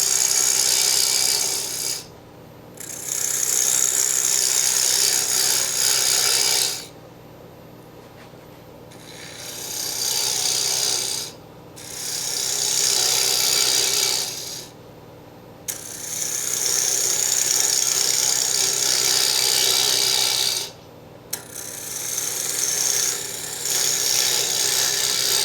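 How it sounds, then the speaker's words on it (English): Sandpaper rubs against wood spinning on a lathe in a steady rasping hiss, loud and close, broken into several long passes by short quiet gaps. "leave about 1/4 inch of wood, and then I will sand it, and then I'll part it off"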